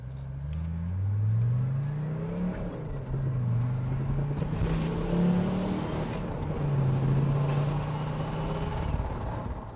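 A Mercedes diesel car accelerates through the gears, its engine drone rising and falling in pitch with each shift, heard from inside the cabin with the windows down, loud and close.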